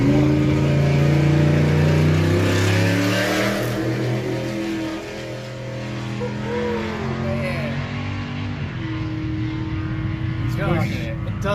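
Ultra4 race trucks at the start of the Pro/Ultra4 race at the 2022 TDK Big Sky event in Broadview, Montana: big engines idle and rev with strong droning tones, loud at first and easing slightly, some swelling as they move.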